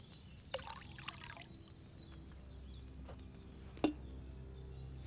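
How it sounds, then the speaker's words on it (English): Wine poured from a pitcher into an alchemy cauldron in Kingdom Come: Deliverance 2: a faint, brief liquid splash and trickle over a quiet room hum, with a few soft clinks. "You have to pour the right base into the cauldron."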